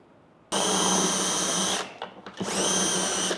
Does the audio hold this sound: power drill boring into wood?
yes